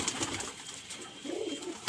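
Pigeon cooing heard close up in a soft, low, throaty call that repeats a few times, with no other sounds around it.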